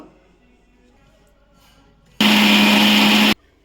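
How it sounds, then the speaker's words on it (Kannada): A mixer grinder whirring through boiled raw mango with green chillies and salt, one loud, steady burst of about a second with a high whine, starting and stopping abruptly after a quiet room. "ಒಂದು ಚಮಚ ಆಗುವಷ್ಟು ಉಪ್ಪನ್ನು ಹಾಕಿ ಗ್ರೈಂಡ್ ಮಾಡ್ಕೊಂಡು ಬರ್ತೀನಿ"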